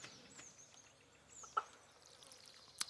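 In the farming video game Stardew Valley, a chicken gives a single soft cluck in the middle and a brief chirp near the end, faint against a quiet game soundscape.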